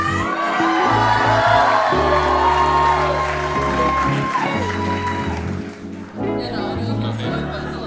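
A studio audience at a dating show claps, cheers and whoops loudly for several seconds over music, briefly dipping before rising again.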